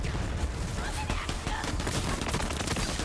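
Rapid gunfire from a shooter game, Borderlands 3, with bursts and sharp shots layered over constant game noise and music, dense and continuous, with a voice speaking underneath.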